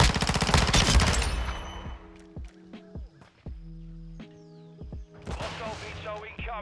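Rapid single pistol shots tap-fired in a first-person shooter video game, sharp cracks in an uneven rhythm after a loud opening burst, with game sounds in between.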